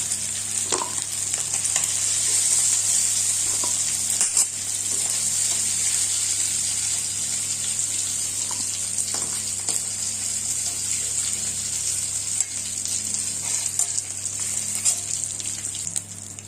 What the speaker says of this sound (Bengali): চিকেনটা ভালো করে ভেজে এখন এটাকে তুলে নেব।